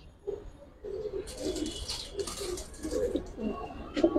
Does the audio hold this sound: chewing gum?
no